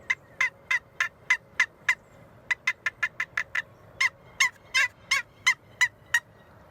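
A wooden box call imitates a hen turkey, producing sharp, loud, evenly spaced yelps in quick runs with brief pauses between series, close and clear with no talk.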